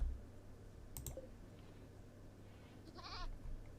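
A short goat bleat wavers near the end over a steady low hum, with a couple of brief clicks earlier; quiet and somewhat distant, in the video game RimWorld.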